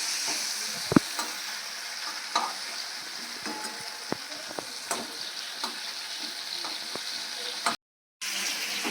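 Sabudana frying in a pan for a vegetarian Shravan-month recipe, a steady sizzle with sharp scrapes and taps of a spatula stirring at irregular intervals, close and alone with a brief dropout near the end.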